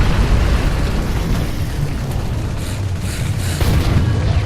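Tank cannon fire in the War Thunder video game, a loud sustained rumbling boom with a dense low roar filling the whole stretch and faint crackling on top, with no voices.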